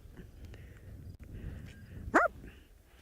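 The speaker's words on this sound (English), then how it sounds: "I can hear a jackal barking." A single sharp, small-dog-like bark from a jackal on a wildlife safari, heard once near the end at moderate distance over faint wind and background hiss.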